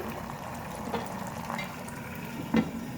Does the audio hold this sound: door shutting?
no